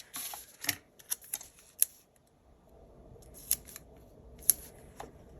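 Scissors snip paper for a Thanksgiving planner spread with sharp, close cuts in irregular clusters, separated by quiet moments and light paper rustling.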